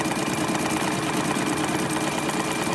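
A sewing machine stitches a tee shirt quilt with a steady, dense, continuous mechanical whirr at close range, running without pause.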